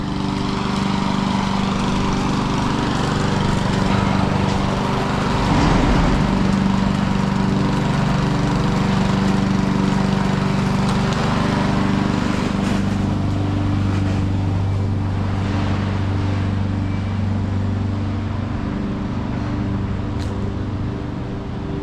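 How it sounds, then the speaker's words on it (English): Lawnmowers run nearby on the grounds of Salt Lake Temple Square, a steady loud engine drone with shifting motor tones and background traffic rumble throughout, no voices. "we always got to have the lawnmowers while I'm filming every time"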